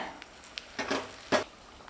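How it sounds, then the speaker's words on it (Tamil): Mustard seeds, with urad dal and broken dried red chillies, splutter in hot oil while tempering for a fenugreek-leaf sambar, giving faint, scattered pops and sizzling bursts close by in a quiet kitchen. "கடுகு பொரிஞ்சிட்ருக்குங்க"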